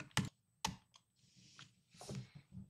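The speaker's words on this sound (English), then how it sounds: "we're going to type play demo and then the name of the demo file and then hit enter" Clacking keystrokes on a computer keyboard as a console command is typed in Team Fortress 2, a few sharp isolated taps followed by a quicker cluster of clicks, close and clear with no talking.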